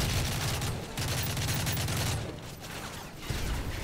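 Dense, continuous gunfire from Call of Duty: Modern Warfare 3, bursts of rapid automatic shots with brief gaps, loud and up close, with no talking over it.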